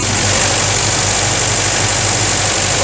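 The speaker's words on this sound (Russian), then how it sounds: "Вот обороты плавают немного." A UAZ engine idles with slightly fluctuating revs, a steady low mechanical drone heard up close with no talking.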